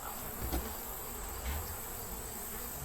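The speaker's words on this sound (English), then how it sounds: "Lots of bees in the super." Honeybees buzz steadily around an open beehive super during an inspection, a continuous droning hum with a couple of brief louder swells as bees pass close, no talking.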